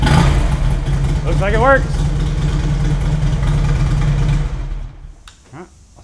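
Harley motorcycle engine idling steadily at about 1100 RPM, a deep low rumble under a man's brief remark, then cutting off abruptly near the end, leaving faint handling noises.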